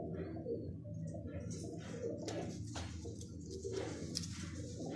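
Pigeons coo in a loose series of soft, throaty calls over steady background noise, close by, with faint speech mixed in at times.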